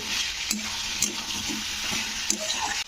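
Drumstick (sajna) vegetables and fried vegetables being stirred and sautéed in a pan with gravy, a steady sizzle with scraping stir strokes and a few sharp utensil knocks, close and continuous without speech.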